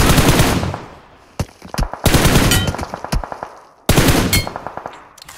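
Loud automatic gunfire in PUBG Mobile, three rapid close bursts of sharp shots with brief gaps and a few single shots between them.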